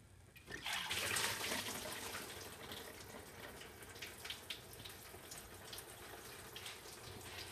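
Antifreeze coolant drains from a Subaru Outback into a bucket, a steady splashing liquid pour that starts abruptly and continues evenly at moderate loudness.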